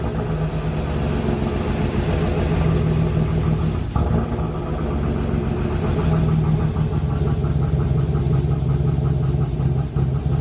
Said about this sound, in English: Booker's gonna get in, start the car, and he's gonna put it in gear